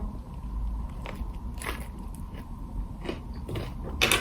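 Someone bites and chews a patso sandwich while eating on camera, making several close, crisp crunches and wet chewing sounds spread across a few seconds, with no talking.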